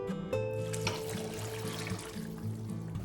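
Two cups of water poured into a pot of Korean spicy chicken stew (dakdoritang) on the stove, a quiet splashing trickle with light clinks, close and alone.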